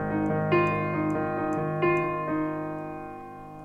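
Solo piano accompaniment to a song, sustained chords with a G moved down to F, struck in a slow steady pattern, clear and close, no voices.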